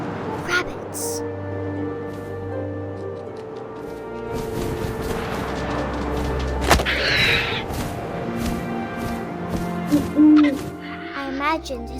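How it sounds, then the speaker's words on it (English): An owl hoots in the video game What Remains of Edith Finch, set against a steady wash of wind and ambient game sound, with a few brief louder hoots standing out late in the scene. "And suddenly, I was an owl."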